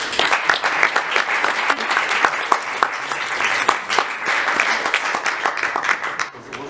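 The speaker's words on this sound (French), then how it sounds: "Merci d'applaudir comme il se doit Jean-Pierre Jeunet." Audience at a film festival applauding, a dense sustained wash of many hands clapping in a hall, steady and loud throughout.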